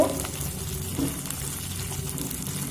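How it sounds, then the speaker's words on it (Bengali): Ginger and chopped green chili fry in hot oil, giving a steady close sizzle with faint stirring noises and no talking. "আদাটা দিয়ে আমি খুব বেশি সময় ভাজবো না"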